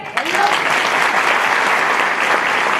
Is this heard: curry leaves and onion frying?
no